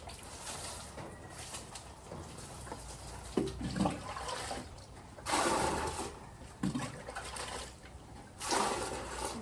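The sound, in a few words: water being poured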